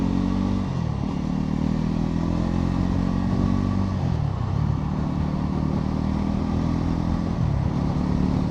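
Bajaj Pulsar NS400Z motorcycle engine droning steadily while riding, pitch falling and rising again at gear changes around every few seconds, close and continuous with no talk.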